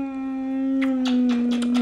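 A dog howls in one long sustained tone, steady at first, then joined by short breathy yelps toward the end, close and fairly loud with no talk over it.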